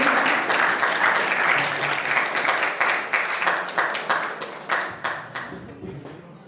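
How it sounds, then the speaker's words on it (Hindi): An audience gives a quiz team a loud burst of clapping at a school general knowledge competition held for Constitution Day; the applause starts dense, then thins into scattered claps and fades out. "जोरदार ताली बजाइए"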